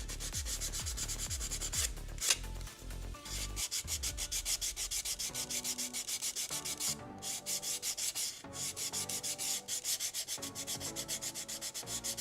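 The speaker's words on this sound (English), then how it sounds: "I'm gonna sand." Rhythmic back-and-forth hand sanding on a plastic model kit piece, close and quiet, with brief pauses between the even strokes.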